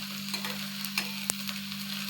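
Okra frying in oil on a flat pan gives a soft, steady sizzle with a few small crackles and pops over a constant low electrical hum.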